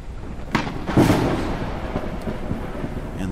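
A thunderstorm in the game Forever Skies brings a deep rolling thunder crash over steady rain, close and full, with no voices.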